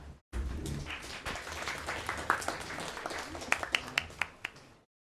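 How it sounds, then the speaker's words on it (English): Meetup audience in a room applauding as the next speaker is welcomed, a burst of many hands clapping that starts abruptly, holds steady, then thins to a few scattered sharp claps before stopping. "Big applause for him."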